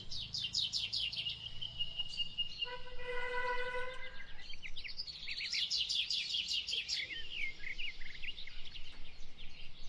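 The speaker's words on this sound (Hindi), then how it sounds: "चिड़ियों की आवाज़ आ रही है" Several birds chirp and tweet in quick bursts, with one bird giving a short series of clear repeated whistled notes partway through.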